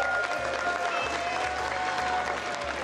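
A crowd at a Hearthstone esports championship, the 2018 HCT Summer Championship, cheers and claps in a dense, steady roar, with a low repeating tone underneath.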